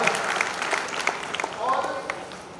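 Audience applause at a meeting in Hyderabad, steady scattered clapping with a faint murmur of voices underneath, moderately loud throughout.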